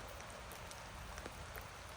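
Rain falls through a forest in a continuous soft hiss, with occasional louder nearby drops striking a surface.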